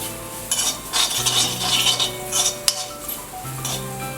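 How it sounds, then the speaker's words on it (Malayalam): Coconut roasting in a pan with coriander powder, chilli powder, turmeric, cinnamon, pepper and fennel for a Kerala-style kadala curry, stirred with a metal spoon that scrapes and clinks against the pan in repeated close strokes. "മല്ലിപ്പൊടി, മഞ്ഞൾപ്പൊടി, കറുവാപ്പട്ട, കുരുമുളക്, പെരുംജീരകം ഇതെല്ലാം കൂടി പാനിലിട്ട് ഒന്ന് ചെറുതായി ചൂടാകുന്നത് വരെ ഇളക്കുക"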